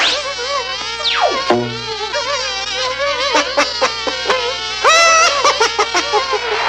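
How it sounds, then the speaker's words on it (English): A busy, buzzing bee drone with wavering pitch, rising and falling, with a few sharp sliding tones and bursts mixed in, in a Winnie the Pooh story. "These are the wrong sorts of bees."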